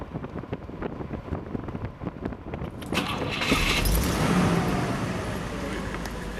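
A 1960 Cadillac Eldorado on the move, its engine drone and road rumble mixed with heavy wind buffeting across the microphone, growing louder and rougher midway as the car picks up speed.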